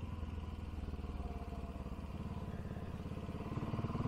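BSA Goldstar motorcycle engine with the throttle opened, a faint, steady single-cylinder thumping with a fast even beat that rises slightly toward the end, heard from some distance without talk.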